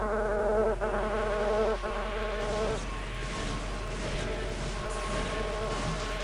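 Mosquitoes buzz continuously in the first-person shooter Daikatana, a steady droning whine that stays loud throughout, with a few faint game noises and no talk over it.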